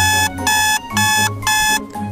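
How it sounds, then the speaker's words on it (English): A kitchen-style timer alarm goes off after a five-minute countdown during a classroom heat-flow experiment, giving three loud bursts of rapid high beeping separated by short pauses. "Set the timer for 5 minutes to measure the temperature."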